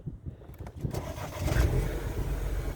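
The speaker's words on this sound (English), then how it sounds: "and the car fires up into life" A Mini Cooper 1.6 S with manual gearbox cranks briefly and then fires into a steady, rumbling idle close by, with no talking.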